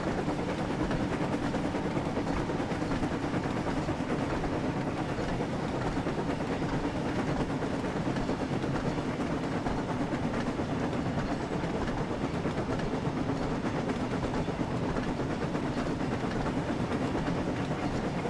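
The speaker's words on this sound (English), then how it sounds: "Without the coaches, James can go 120 up to 125 miles an hour." Steam engine James from Thomas & Friends running light without coaches along rails in a video game, a continuous even rumble with faint clickety-clack and a steady drone throughout, no talking.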